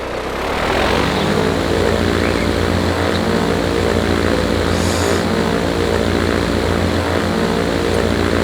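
Propeller airplane in Transport Fever 2 flying steadily, a loud continuous engine drone with a buzzing propeller whir that holds throughout, with no talk.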